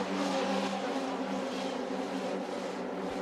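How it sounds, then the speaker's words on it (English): FIA F3 single-seater race cars at Spa-Francorchamps, a pack of 26 climbing through Eau Rouge, roaring past in a loud, sustained engine blare with layered overlapping tones and no gaps. "leading the 26 cars through Eau Rouge for the first time this weekend"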